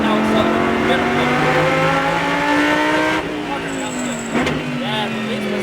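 A Lamborghini Super Trofeo race car's engine roars loudly from inside the cockpit on a Las Vegas track, its pitch climbing steadily with acceleration before a brief dip and renewed pull, with a voice talking over it.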